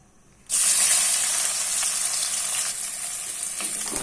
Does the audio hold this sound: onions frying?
yes